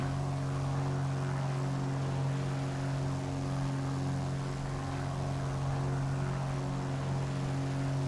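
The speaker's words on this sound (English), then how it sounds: "Great flying this plane down here so far." Steady, loud propeller drone and engine hum of a Piper Arrow III (PA-28R) single-engine airplane in cruise flight, heard from inside the cabin with strong constant tones and no talking.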